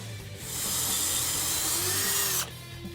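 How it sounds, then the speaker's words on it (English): A power drill whines steadily for about two seconds at high speed while drilling holes in a 2015-2017 Mustang GT frame rail, then cuts off abruptly, with a low mechanical hum underneath. "we're going to mark the holes and drill them out."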